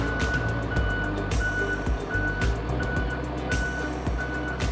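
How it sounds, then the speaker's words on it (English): A school bus reversing through a cone course in a reverse serpentine at a bus driving competition sounds its backup alarm: steady, evenly spaced beeps over a low idling diesel rumble, moderately close and with no talking. "reverse serpentine, that's where a bus is going backwards and it's going through the cones."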